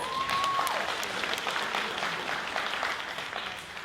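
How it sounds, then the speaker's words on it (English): An audience at the Miss Earth New Zealand 2026 finals claps, a warm, steady round of applause at moderate distance that holds throughout and slowly tapers toward the end, with a brief tonal sound near the start. "Can we give her a round of applause?"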